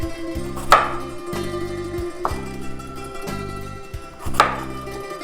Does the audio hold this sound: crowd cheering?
no